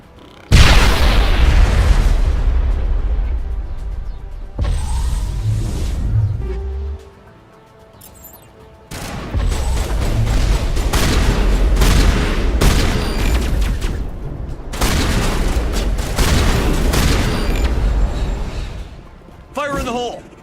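Loud artillery fire and explosions in the video game Mass Effect, sustained rumbling booms and bursts in several long heavy stretches separated by brief lulls, with game dialogue and voices mixed in.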